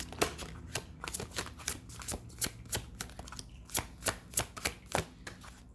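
Tarot cards slide and snap against each other as they are shuffled and drawn from a deck, a quick series of soft crisp flicks and riffles at close range with no talking.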